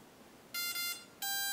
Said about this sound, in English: Double beep, okay.